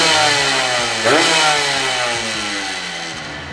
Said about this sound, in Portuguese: Você vai dar uma acelerada, você vai entender o que, que é o motor dois tempos.